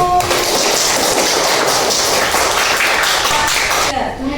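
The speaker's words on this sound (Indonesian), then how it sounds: "Beri tepuk tangan untuk kelompok 1." A class applauds a student group after its presentation, dense clapping filling the room at a steady level for almost four seconds before cutting off abruptly.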